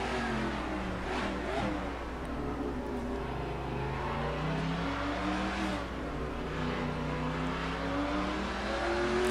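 NASCAR Racing 2003 race cars snarl through the game's Calder Park circuit, engine tones rising and falling as they rev and pass, a continuous moderately loud roar with shifting pitch.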